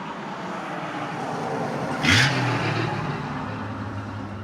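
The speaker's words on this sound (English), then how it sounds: "sorry, very loud truck." A very loud truck passes close outside, its deep engine rumble swelling to a peak with a brief burst of hiss and then trailing off, with no talking.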